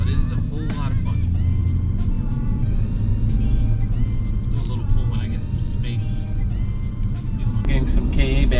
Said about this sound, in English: I don't know if you guys can hear the blow-up valve and the turbos spooling up